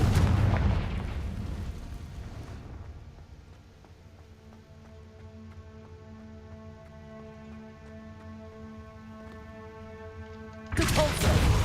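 Confringo spell explosions in the video game Hogwarts Legacy: a loud burst of blasts, then a lingering low rumble with a tonal hum, and another sudden loud blast at the end.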